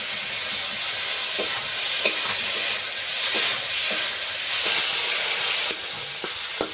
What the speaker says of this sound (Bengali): তেলে যে একটু চিংড়ি মাছ দিয়ে দিচ্ছি দিয়ে একটু একসাথে কষাই করে দেবো